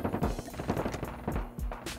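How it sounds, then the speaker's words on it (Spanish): Sniper rifle gunfire in a shooter video game comes as a quick run of sharp, repeated cracks and thuds, fairly faint and close together, with no talk. "El sniper está ahí arrasando con todo."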